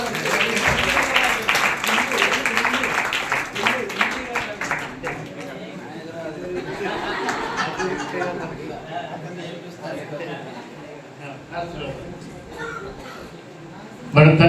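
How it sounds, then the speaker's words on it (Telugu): A church congregation at a fellowship meeting claps loudly together in rhythmic bursts, mixed with voices and chatter throughout. "గట్టిగా చప్పట్లు కొడదాం."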